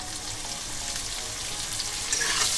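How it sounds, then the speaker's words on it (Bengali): Chopped onion pieces frying in oil in a pan, a dense, even hiss of sizzling that grows slightly louder toward the end, with no voices. "পেঁয়াজটাও হালকা করে একটু লাল করে ভেজে নেবো"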